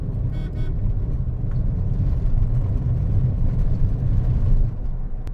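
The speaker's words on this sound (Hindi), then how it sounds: "चिपक के चल रही है गाड़ी।" Maruti Suzuki Ciaz sedan driving, heard from inside as a steady low road and engine rumble with tire noise, fairly quiet and continuous, with a brief faint click early on.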